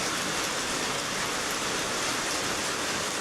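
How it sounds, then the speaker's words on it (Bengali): Heavy rain pours in Kerala under dark clouds and wind, a dense, even hiss with no breaks or individual drops standing out. "আর বৃষ্টি হচ্ছে"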